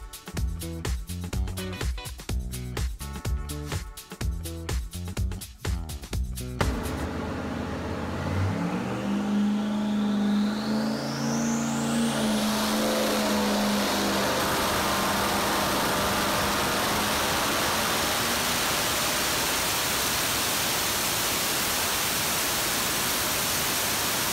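An LS-engined car with a cheap eBay GT45 turbo is revved in sharp blips, then settles into a loud, steady roar with a rising turbo whistle, sustained and close.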